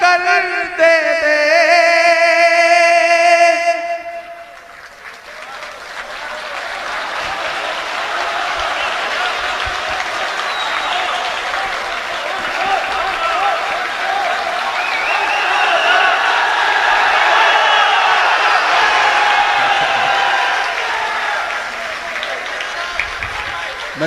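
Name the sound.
audience applause at a poetry recital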